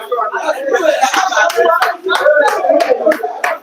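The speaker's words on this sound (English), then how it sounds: "Even Kelvin is clapping for Simon" A pool player claps for his opponent's shot during a money match, a series of sharp, close hand claps in an uneven rhythm, mixed with chuckles and chatter from onlookers.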